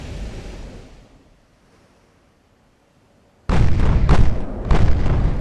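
Warship artillery in the naval video game Ultimate Admiral: Dreadnoughts fires loud booming salvos. A rumbling barrage fades into near silence, then heavy repeated gunfire bursts in abruptly.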